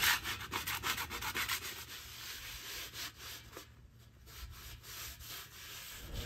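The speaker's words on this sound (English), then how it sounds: "continue scrubbing and scraping off the cooked on layers from the flame broiler" Scrubbing and scraping of cooked-on layers from the flame broiler of a Pit Boss grill during a deep clean, a close, steady run of rough rubbing strokes with no talk.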